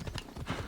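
Horse hooves gallop in Assassin's Creed Shadows as a quick burst of a few loud, close clopping hoofbeats.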